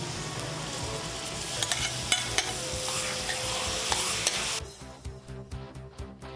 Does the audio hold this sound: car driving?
no